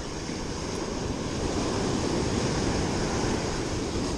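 Surf breaking on the shore at Edisto Beach, South Carolina, a steady loud wash of waves and wind noise filling the clip with no talk.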